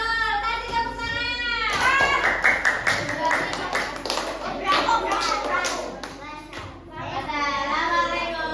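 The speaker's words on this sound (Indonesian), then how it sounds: "Kasih tepuk tangan." Fourth-grade pupils in an Indonesian classroom clap their hands in a quick rhythmic pattern of taps for several seconds, mixed with children's voices and an adult talking.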